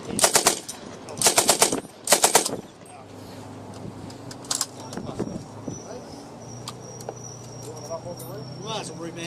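An M60 machine gun fires three loud, close bursts of rapid automatic shots at an outdoor military show, then a single shot, with crowd chatter and birdsong in the background afterward.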